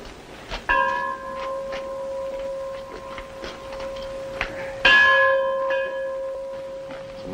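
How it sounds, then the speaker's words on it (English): A mission church bell in an Old West setting rings two clear, resonant strikes several seconds apart. Each strike leaves a long, ringing hum that hangs in the air, with faint ticking in the background. "It's a mighty handsome bell"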